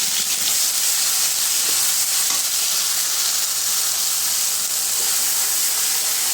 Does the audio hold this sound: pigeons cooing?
no